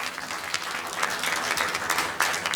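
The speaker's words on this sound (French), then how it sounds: "Applaudissez une fois de plus pour les métiers de Kinshasa." Applause from the audience at a film club screening in a hall, a continuous wash of clapping of moderate loudness with a few sharper claps standing out.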